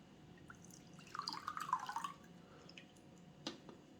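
Fresh lemon and lime juice pours from a Black and Decker electric citrus juicer into a small cup: a quiet, brief liquid trickle and drip lasting about a second over faint background hiss.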